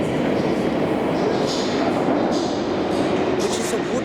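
A London Underground Piccadilly line train at Manor House station, a loud continuous rumble and roar of the moving train filling the platform with constant low noise.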